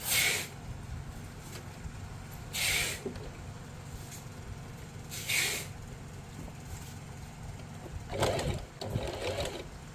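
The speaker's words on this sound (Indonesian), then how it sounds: "Nah, nanti dijahit pas" A sewing machine hums steadily at close range, stitching a small fabric triangle for an inner pocket, with a few brief hissy bursts breaking in.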